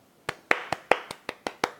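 About eight hand claps, close and fairly quick, in a slightly uneven rhythm with silence between them.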